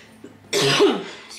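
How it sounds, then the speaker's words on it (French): A single harsh, close cough bursts out loudly, with a faint throaty sound just before it. "je tousse encore"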